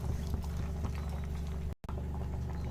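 Spinach greens and lentils bubble in a pot at a soft, steady simmer, with faint continuous bubbling and a brief dropout near the end.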